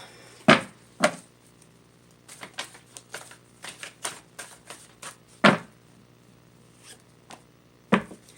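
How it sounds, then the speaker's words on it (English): Tarot cards are shuffled and pulled from a deck in close, crisp snaps and riffles: a few sharp slaps mixed with flurries of lighter flicks, against a quiet background with a low steady hum and no voice. "let's pull more cards and see what... advice"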